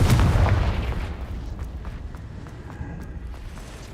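A Confringo blasting spell in the video game Hogwarts Legacy goes off as a heavy, booming explosion at the start, then fades into a lingering rumble with scattered thuds and small crackles.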